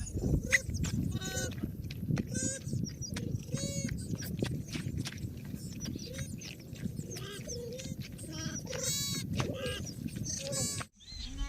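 A flock of sheep bleats repeatedly and overlapping, close by, over a continuous rumble of outdoor noise, with a little faint human voice in the mix.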